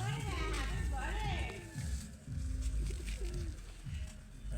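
Soft, low cooing of a teddy pigeon close by, repeated in short rolling phrases, with someone talking over it.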